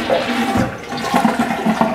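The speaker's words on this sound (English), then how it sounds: "The weird thing about the toilet is that this handle here is how you flush" A toilet flushed by its handle inside a potato-shaped novelty lodging, with water rushing and gurgling steadily at close range for the whole two seconds, no talking.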